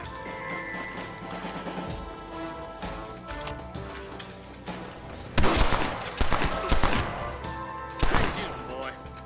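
Gunfire in a Red Dead Redemption video game shootout: loud, clustered bursts of shots ring out in the second half over a dense bed of game music and galloping hoofbeats.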